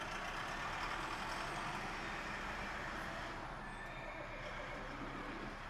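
A Zeekr X electric car plays its external horse-neigh sound effect, a continuous whinnying call sustained at steady loudness over broadband road or vehicle noise, with no one talking.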